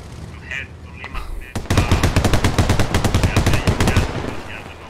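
Rapid automatic gunfire from the shooter game SquadOps comes in loud, dense bursts of rattling shots that run for several seconds.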